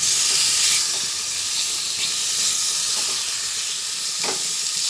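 Chicken dropped into a hot pan with masala for ghugni, a steady hissing sizzle, close and continuous with slight surges.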